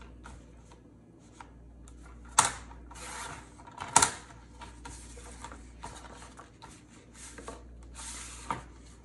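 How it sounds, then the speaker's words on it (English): Paper being trimmed for a handmade lap book journal: soft rustling and scraping with a few sharp snips or clicks, close up and fairly quiet, with no talking. "I'm gonna go ahead and trim that up"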